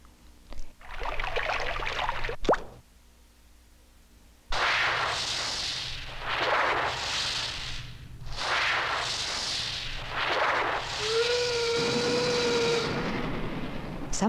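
A steam engine vents in loud, rushing bursts of hissing that swell and fade several times, then a steady, clear whistle sounds near the end over continued hiss.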